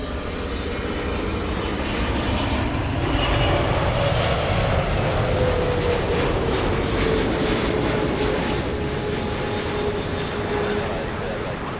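Heavy Boeing 777 touching down at LAX, a loud continuous roar of jet engines with a slowly falling whine that fills the whole stretch, close and sustained without any talking.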